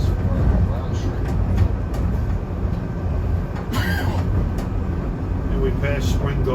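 A SEPTA commuter train on a snowy run from Philadelphia toward Doylestown rolls along the rails with a steady low rumble and clatter, heard from inside the car, with a few brief squeals and clicks over the din.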